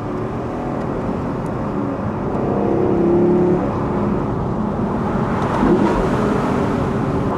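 A Lexus LFA being driven, its engine giving a steady loud drone with road and wind noise that swells slightly as it pulls harder, heard from inside the car with no talk.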